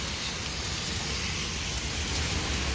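Heavy rain mixed with hail pours down on Kipps Lane in London, Ontario, a dense, even hiss of drops with no break and no voices.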